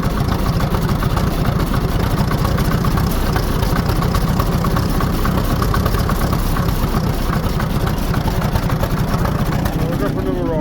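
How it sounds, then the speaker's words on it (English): A 1944 Standard Fordson tractor converted to a Perkins 4.270 diesel engine, running somewhat unhappily on paraffin, idles with a steady loud rumble close by. "Right, she's running on paraffin. It's not all together happy"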